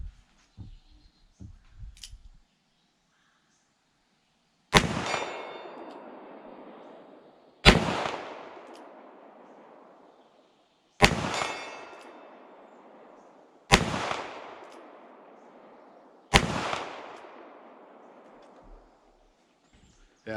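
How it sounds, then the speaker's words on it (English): Five loud shots from a Ruger SP101 .357 Magnum revolver fired single action at a steel plate 40 yards away, evenly spaced about three seconds apart, each sharp crack trailing off in a long outdoor echo, after faint handling sounds. "we'll try that 40-yard plate. Probably going to shoot single action here."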